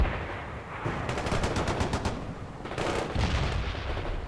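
Dense gunfire and artillery from the World in Conflict real-time strategy game: sustained rapid machine-gun bursts and rattling volleys run throughout with no pauses, loud and close, no voices.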